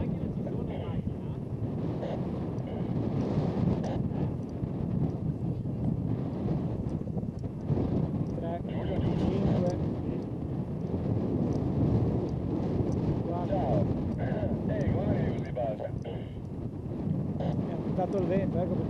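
Strong wind buffeting a microphone on Monte Leco, a paragliding launch site, in 1992, a continuous loud roar with gusty swells throughout the whole stretch, with no speech heard.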